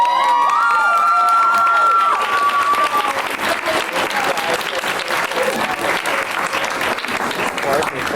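Loud audience applause mixed with cheers and shouts fills the room after a school production of Rodgers and Hammerstein's Cinderella, with an opening musical tone fading as the clapping swells and stays dense throughout.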